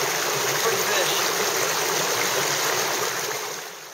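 Steady broadband rush of a river waterfall pouring over shoals, loud and continuous, fading slightly near the end.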